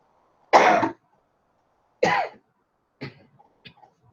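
Four separate coughs and throat clears from one person, close and isolated in a quiet room, the first two strong and the last two shorter and weaker.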